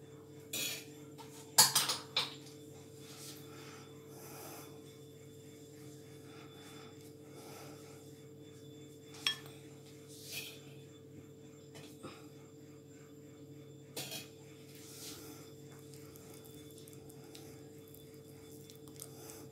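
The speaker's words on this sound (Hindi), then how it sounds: "अच्छी तरह हमने इसमें घी डाल के इसको मिक्स कर लिया है।" A spoon stirs ghee into cornflour in a bowl, giving a few sharp clinks against the bowl early on and softer scattered taps later, over a quiet background hum.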